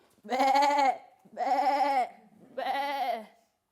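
A sheep bleats three times in a row, loud and close, each cry a wavering, nasal call separated by short pauses.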